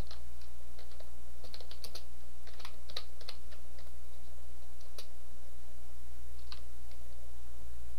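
Text being typed on a computer keyboard in embroidery software, with irregular clusters of light key clicks over a steady low hum, no speech.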